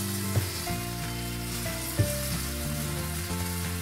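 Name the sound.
mackerel (bangda) fish frying in pan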